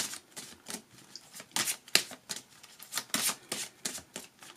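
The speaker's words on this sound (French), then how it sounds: "Je mets toutes mes cartes et puis on en discute après" Tarot cards are dealt and laid out on a table in a quick irregular series of soft slaps and papery flicks, close and fairly quiet, with no talk.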